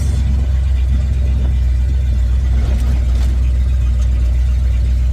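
A 1955 Buick Super with a big block chassis swap and automatic transmission kicks down into a lower gear as the engine revs, a steady loud low engine drone close by throughout.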